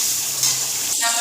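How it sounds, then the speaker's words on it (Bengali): Rohu fish sizzles steadily as it fries in a pan, a close, constant crackle with a brief utensil clink near the end. "মাছটা লাল লাল করে ভেজে নেব।"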